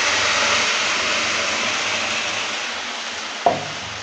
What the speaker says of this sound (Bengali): ঝিঙের পেস্টটা দেওয়ার পর ভালো করে নেড়েচেড়ে নিচ্ছে।